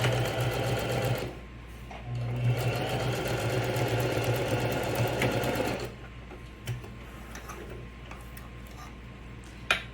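A sewing machine back-stitches fabric for a toiletry or makeup pouch, its needle running in a fast steady mechanical chatter that briefly pauses and then resumes. After about six seconds it stops, leaving scattered quiet handling clicks.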